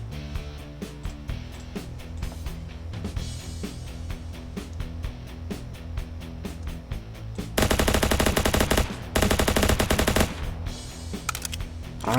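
Rapid automatic fire from an S4 gun in Ancient Warfare 3, hammering at a boss in dense continuous bursts, with two louder stretches of fire near the end and no speech.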